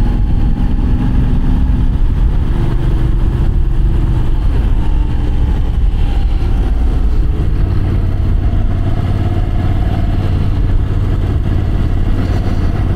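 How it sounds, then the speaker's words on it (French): A Moto Guzzi V9 motorcycle rolling along a mountain departmental road at an easy touring pace, its engine giving a loud, steady low rumble that stays close and constant throughout, with slight shifts in pitch and no talking. "Ah, ce moteur est vachement agréable pour enrouler comme ça."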